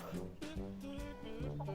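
A small flock of chickens of mixed breeds, hens and roosters, clucks close by in short, repeated calls, murmuring steadily.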